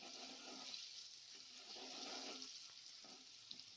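Garlic and chili paste hits hot oil already seasoned with asafoetida while cooking a val bean curry, giving a steady, close, bright sizzling hiss that holds without a break.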